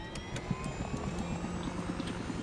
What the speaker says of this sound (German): oh, da wartet der Helikopter auf mich